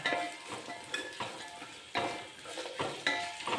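Carrot and mango pickle mixture sautéing in a pan, with rhythmic scraping stirs every half second or so over a low sizzle, fairly close and quiet.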